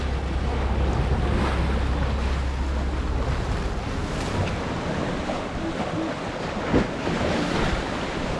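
Ocean surf rolls at a rocky beach in Dubrovnik, Croatia, heard as a steady broad wash of water under heavy wind buffeting the microphone, with no clear voices.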